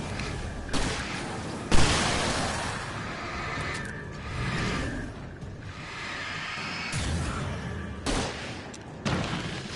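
Gunfire and booming shots from a Portuguese-language horror video game, several sharp loud bursts at irregular intervals over a rumbling, noisy backdrop.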